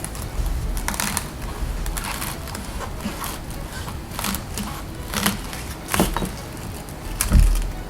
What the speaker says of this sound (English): see how it works when I actually use it to cut vegetables